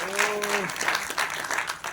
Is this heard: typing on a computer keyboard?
no